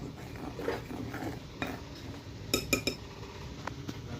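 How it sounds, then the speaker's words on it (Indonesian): A flour and tapioca mixture stirred in a bowl with seasoning and salt, soft scraping and rustling with a few light clinks of a utensil against the bowl, quiet and close with no voices. "Ini kita aduk dulu setengah rata."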